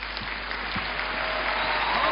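A show audience claps steadily to welcome a magic balloon performer onstage, a continuous wash of applause that swells slightly toward the end.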